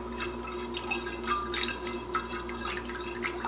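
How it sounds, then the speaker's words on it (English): Water being stirred in a bowl after a little salt is added, a soft continuous sloshing and dripping swirl close by with no talking. "And then I'm just mixing it up a bit."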